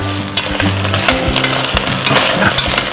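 Halved garlic sweats in a hot pan as the risotto base starts. There is a steady close sizzle, with a few scraping clinks of stirring throughout.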